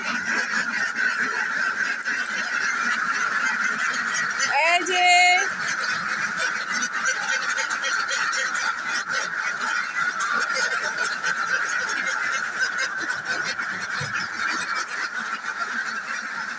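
Farm ducks kept in an indoor room quack and honk noisily, a dense, continuous chorus with one louder burst of calls partway through, while someone speaks briefly over the birds.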